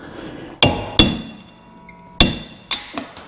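A hammer drives a punch against a wheel stud to knock it out of a vehicle hub, making four sharp, loud metallic blows at uneven intervals with short ringing decays and no talking.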